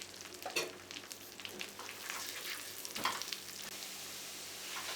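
Cumin seeds, chopped ginger, garlic and bay leaves sautéing in a pan: a soft, steady sizzle with a few louder stirring scrapes, close by and without talk.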